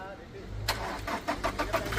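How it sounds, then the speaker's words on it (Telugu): A 2017 Toyota Innova Crysta 2.4 G engine cranks briefly and catches, settling into a running idle, heard fairly close and quiet. "సింగిల్ సెల్ఫ్లో కార్ స్టార్ట్ అవుతుంది"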